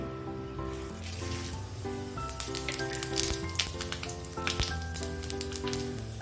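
Five-spice and cumin seeds temper in hot oil, giving a dense crackling sizzle with rapid spitting pops that builds through the middle, close and without speech, over a low steady hum.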